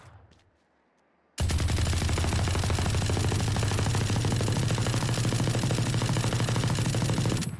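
After a moment of near silence, the Spectre submachine gun in the video game Valorant opens up in a long, unbroken stream of rapid automatic fire that stays loud and close for about six seconds.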